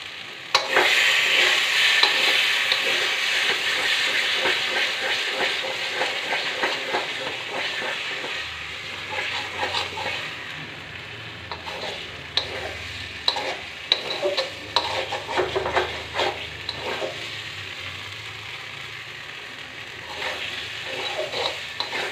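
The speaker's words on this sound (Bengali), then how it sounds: "নাড়তে নাড়তে দেখুন কতটা শুকিয়ে গেছে।" Mashed bottle gourd fries in a pan with a steady sizzle while a spatula stirs and scrapes it in repeated clattering strokes that grow more pronounced toward the end, with no voices.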